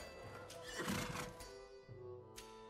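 A horse in a Minecraft 16th century mod lets out a single drawn-out neigh, a rising and falling whinny heard close over faint background game ambience.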